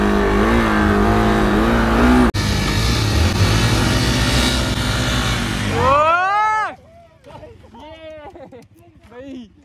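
Loud motorbike engines drone and rev for several seconds, then cut off as people start talking.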